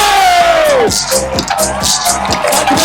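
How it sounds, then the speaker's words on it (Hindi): A large audience at a cryptocurrency event cheers and whoops to welcome a speaker, loud and close, with a sustained crowd roar and scattered shouts after a voice fades out. "please give the round of applause to welcome with standing ovation"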